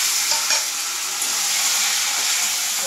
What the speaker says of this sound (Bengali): পেঁয়াজটা ভাজা হয়ে গেছে, একটা টমেটো দেবো